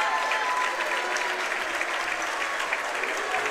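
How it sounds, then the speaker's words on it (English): A crowd at a high school boys' playoff basketball game applauds and cheers steadily in a gym, a sustained wash of clapping over the full stretch, with some voices mixed in. "The crowd still showing their support and love for the Whitman Hanson Panthers"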